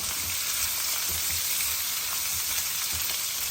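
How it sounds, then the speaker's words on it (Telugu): Onions sizzle in hot oil in a pan for chicken liver curry, a steady, dense, close hiss with faint low crackles and no talking. "ఉల్లిపాయలు ఇంకా వేగుతున్నాయండి బాగా వేగాలి"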